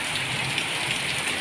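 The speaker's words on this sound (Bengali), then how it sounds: "কি বৃষ্টি, জল জমে যাচ্ছে।" Heavy monsoon rain falling steadily, a dense, close hiss of drops hitting surfaces with no talk.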